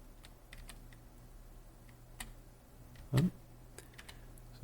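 Light, sparse taps on the WASD keys of a computer keyboard, a few soft scattered clicks with one louder tap near the end, over a quiet room hum.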